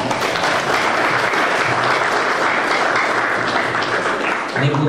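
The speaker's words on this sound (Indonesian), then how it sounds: "Tepuk tangan." Loud, dense applause from a large audience at a public speech in Purwakarta, sustained and even for about five seconds with a slight dip near the end.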